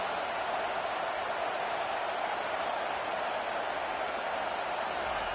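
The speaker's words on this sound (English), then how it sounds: "This crowd bringing the energy and noise early." Stadium crowd noise from the College Football 25 video game, Michigan Wolverines vs Illinois Fighting Illini: a steady, dense roar that holds at an even level throughout.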